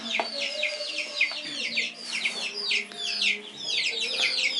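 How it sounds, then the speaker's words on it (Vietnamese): Chickens raised at home on a small self-sufficient farm cluck and chirp almost without pause, a dense chorus of close and mid-distance birds with a steady farmyard hum underneath and no talking. "Đấy, gà mình tự nuôi."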